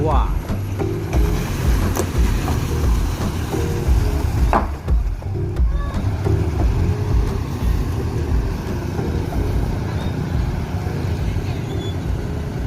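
The Firkansa 52 bus pulls into the Balai Solok bus terminal with a steady low engine rumble close by, amid terminal background noise and someone talking over it.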